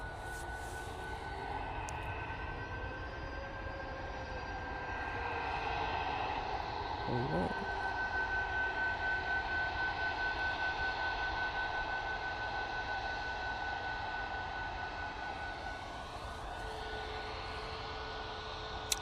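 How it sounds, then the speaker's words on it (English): Ryanair Boeing 737 MAX 8 jet at Manchester Airport, a distant engine rumble and whine that swells in the middle and fades again, heard from a spotting position with faint background noise. "Ryanair 737 MAX 8"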